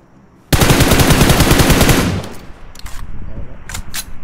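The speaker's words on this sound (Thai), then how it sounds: "เออยิงเยอะลูกจะหมดเลย" Automatic gunfire from a PUBG Mobile match, a loud sustained burst of rapid shots lasting about a second and a half, then fading into scattered quieter clicks and shuffling.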